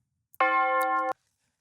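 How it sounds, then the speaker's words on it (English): A single tubular bell sample from a trap beat rings out once, clean and bright with a sustained metallic tone that cuts off abruptly after under a second, heard alone. "one thing you will often hear in Flint type beats is the tubular bell."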